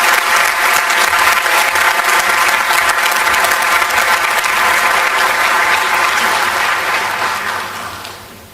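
Sustained applause from a conference audience at an IAEA meeting, loud and steady throughout before tapering off near the end, with no speech over it.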